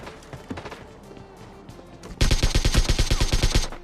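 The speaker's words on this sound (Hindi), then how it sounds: "लेकिन फिर पीछे से गोलियां पड़ गई हैं।" Gunfire in a battle royale shooter game, coming from behind the player: a loud, rapid automatic burst of evenly spaced shots that starts abruptly after a stretch of quieter game ambience and footsteps.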